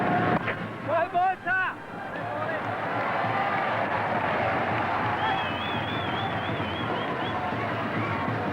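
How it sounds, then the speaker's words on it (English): Cricket crowd at a 1996 one-day final in Colombo, Sri Lanka versus Australia, applauding steadily as a broad, continuous wash of clapping and murmur, heard from a distance beneath a commentator's voice. "The crowd applauding every dot ball now."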